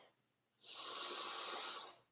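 A single big, deep breath drawn in slowly and let out, close and fairly soft, lasting over a second in a quiet room.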